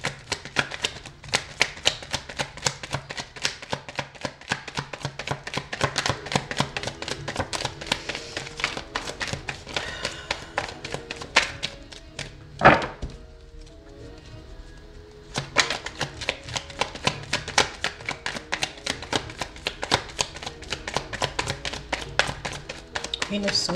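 Tarot cards shuffled by hand in a series of rapid, crisp riffling and tapping bursts, close and fairly loud, pausing briefly midway before resuming.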